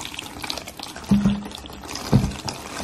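Water is poured into a potting soil mix for spring seed starting, in two short, soft splashing pours over a quiet background.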